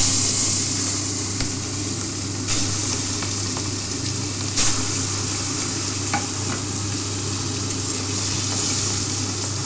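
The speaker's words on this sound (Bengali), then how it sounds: "কড়াতে তেল দিয়ে দিয়েছি, গরম হয়ে গেছে। এবার মাছগুলো আমি ছেড়ে দিই।" Fish pieces fry in hot oil in a kadai, giving a steady, loud crackling sizzle throughout with a few sharper pops and clicks over the top.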